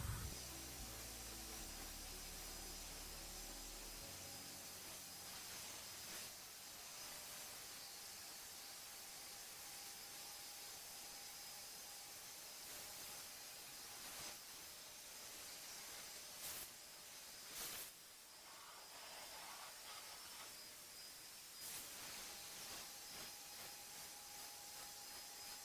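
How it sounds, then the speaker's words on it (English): Nightstands get sprayed with paint on all sides at once: a steady, close aerosol hiss runs continuously for about twenty-five seconds, with a few brief louder bursts and pauses. "you can just quickly spray around all three sides of each piece at once"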